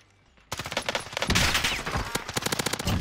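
Rapid automatic gunfire from the Warzone video game erupts after a brief quiet, with loud, dense bursts of shots rattling close by for about two and a half seconds.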